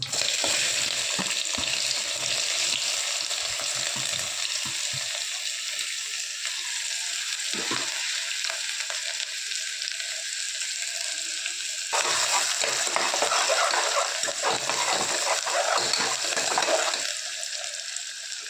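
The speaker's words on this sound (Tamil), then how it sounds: "இது கூட வெங்காயத்தை சேர்த்துக்கிறேன்" Onions frying in oil with fennel, pepper and a black cardamom pod give a steady loud sizzle, with stirring scrapes early on and a louder burst of frying later, no talking.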